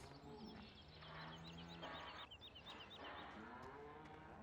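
Cattle moo again and again in the Farming Simulator 17 video game, long low lowing calls overlapping from several animals at moderate distance, with birds chirping faintly above them and no speech.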